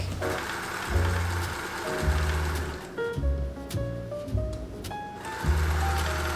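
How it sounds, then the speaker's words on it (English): A sewing machine runs in short bursts while stitching the elastic casing seams of a maxi skirt, its motor whirring in stop-start runs of a second or so, close and fairly loud, with brief pauses between bursts. "I'm going to take this over to the sewing machine and sew this in place"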